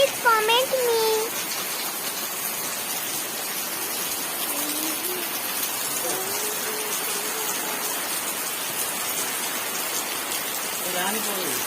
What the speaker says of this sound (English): it is very rainy. Heavy rain.